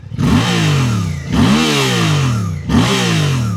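A 2026 Suzuki GSX-8TT motorcycle with a stubby exhaust under the swingarm, revved close by in three sharp, loud throttle blips that rise and fall back toward idle, with no voices.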